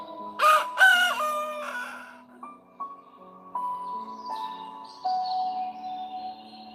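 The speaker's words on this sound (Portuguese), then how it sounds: "O galo está cantando toda hora." A rooster crows loudly, with a harsh call at the start, and then a few softer, drawn-out tones and faint clucking follow in a quiet setting.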